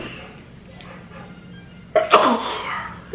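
A woman at home gives one sharp, close sneeze, preceded by a quiet sharp inhale.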